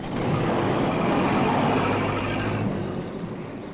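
A stolen car pulls away and drives off, a loud, steady engine and road rumble holding for about three seconds before easing down at the end, with no talk over it.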